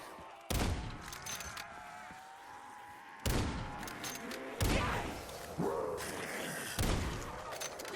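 Gunfire from a fast-firing weapon in Call of Duty Zombies, with several loud sharp bursts spaced across the stretch over a steady background of game sound.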